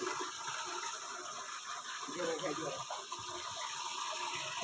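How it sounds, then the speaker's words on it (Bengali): Fresh water pours into a fish tank as it is refilled, a steady, close gushing and splashing that runs unbroken the whole time with no other clear sounds. "আমরা এখন শুরু করতে যাচ্ছি যে নতুনভাবে টাঙ্কিতে পানি রেডি করছি"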